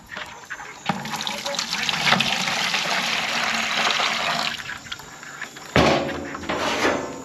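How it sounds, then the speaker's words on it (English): Water pours and splashes into a crab's habitat container in Jamaica, a steady rushing stream with a louder gush near the end, while people talk over it. "We're gonna add some water."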